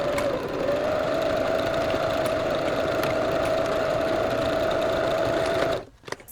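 A sewing machine runs steadily for several seconds stitching pants pieces together, giving a close, even motor whir with rapid needle chatter before stopping abruptly.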